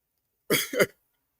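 Two quick, close coughs in a single short burst, then silence.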